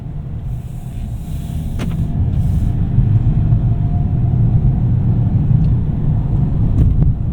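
A 2026 Ford Maverick XLT with the 2-liter engine accelerates, a steady loud low engine drone and road rumble building after the first second and holding through to the end.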